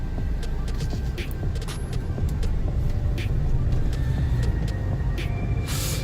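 Inside a twelve-year-old Hyundai Santa Fe CM SUV on the move, a steady low road and engine hum fills the cabin, with faint scattered clicks and rattles over it and no speech.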